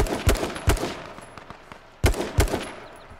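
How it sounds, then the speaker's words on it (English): Shotgun fire in the survival battle royale game H1Z1, heard as several sharp, punchy blasts in two close clusters with brief quiet gaps and fainter distant shots between them, no voices. "Ooh, shotgun battles."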